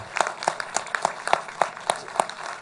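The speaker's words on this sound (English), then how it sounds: "they deserve a round of applause for everything they've done for the fandom." A few people in a fan convention panel audience clap in a steady, sparse rhythm of distinct individual claps, fairly close and moderate in level.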